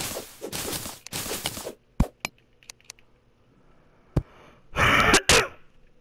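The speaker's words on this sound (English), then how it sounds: "Sorry if I'm coughing." A person coughs and clears their throat in several rough bursts, loud and close, with a couple of sharp single coughs between quieter stretches and a final harsh burst near the end.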